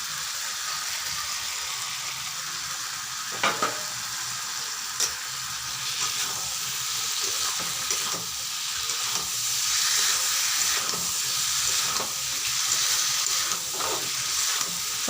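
Chicken pieces and potatoes sizzle steadily in a hot pan of cooked-down spice paste for a spicy chicken dish, with occasional scraping stirs cutting through the continuous frying hiss; no talking.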